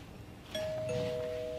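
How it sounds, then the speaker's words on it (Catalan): A doorbell chimes once, a two-note ding-dong, ringing out over quiet room noise. "Només sento jo el timbre?"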